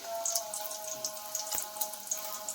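Eggs frying in a pan give a soft, steady sizzle with faint scattered pops, quiet and even throughout, with a low hum underneath.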